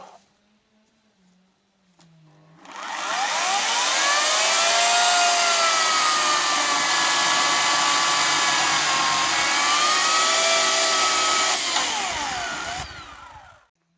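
Chainsaw cutting a branch into firewood on farmland in Latvia, a loud sustained buzzing whine that starts after a quiet moment, holds steady for about ten seconds, then cuts off.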